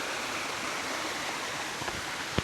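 Datu Ampunan Falls in Laak, Davao de Oro, roaring as a steady broadband wash of falling water, constant and fairly loud throughout, with a brief sharp knock near the end.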